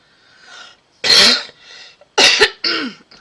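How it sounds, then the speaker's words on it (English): Several close, loud coughs in separate bursts with short gaps between them, no talking. "Got a little bit of a cough today"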